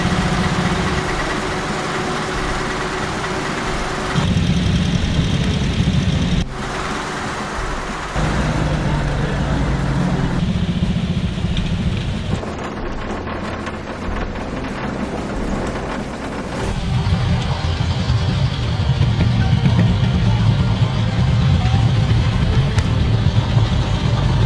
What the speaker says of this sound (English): the vehicles and drivers began their start-up routines and manoeuvred into position for